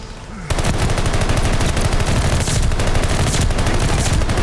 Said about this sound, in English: Allied mortar fire coming.